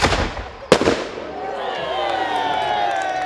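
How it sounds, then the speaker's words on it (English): A gunpowder gun fires once at a recreated 1464 castle siege: a single sharp, loud crack, then a ringing decay over the open-air background. "Then it was the turn of the gunners to batter down the defences."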